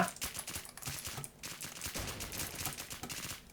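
Rapid gunfire in an online shooter video game, a dense spray of quick shots crackling almost continuously, fairly faint, with no talking.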